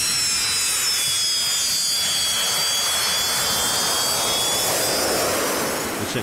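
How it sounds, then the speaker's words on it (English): A 30-ton Antonov 74 jet lands on an ice runway in the Arctic near the North Pole, its engines giving a loud, steady roar with a high whine running through the whole stretch. "Today we received our incredible Antonov 74 plane"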